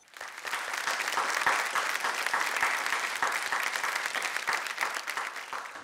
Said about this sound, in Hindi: उनके हौसले के लिए एक बार जोरदार तालियां